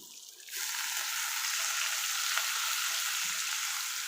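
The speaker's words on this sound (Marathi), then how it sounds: "त्यात मी अजून थोडं पाणी ओतते" Water poured into a hot spiced tempering for dal sets off a sudden loud hiss that settles into a steady, close sizzle lasting to the end, with no talking.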